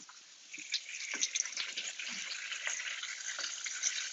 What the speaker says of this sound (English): our kielbasa and our bacon is frying up still together